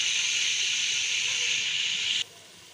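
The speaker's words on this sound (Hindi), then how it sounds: "इसको भूनना पड़ेगा अच्छी तरीके से मसाले को" Garam masala with turmeric frying in a pan for aloo tahari, a steady, close sizzling hiss that holds evenly for about two seconds and then cuts off abruptly, leaving quiet room tone with no talk.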